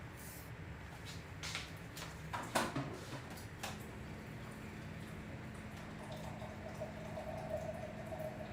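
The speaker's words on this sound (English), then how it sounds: "And we're gonna fill it up with hot water." Hot water pours into a mug, a soft liquid stream whose tone rises as the vessel fills, preceded by a few faint clinks and ticks in a quiet room.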